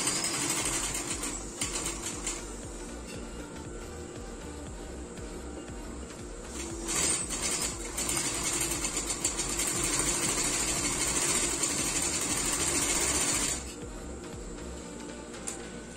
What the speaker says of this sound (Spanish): seguimos cosiendo